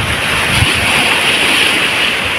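Ocean waves surging against rocks near a coastal rock formation in the Philippines, a continuous loud roaring wash of surf with wind buffeting the microphone.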